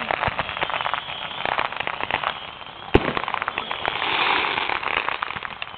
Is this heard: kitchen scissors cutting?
no